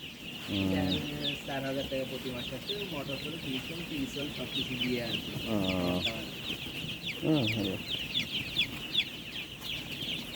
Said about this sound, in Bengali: চব্বিশশো মুরগি